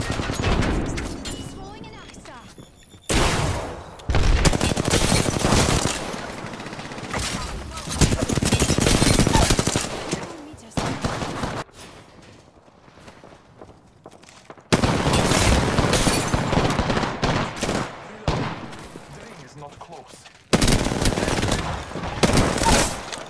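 Rapid bursts of gunfire from a squad battle in the video game Apex Legends, loud and close, coming in dense volleys with short lulls and sharp impacts throughout, with brief voice callouts mixed in.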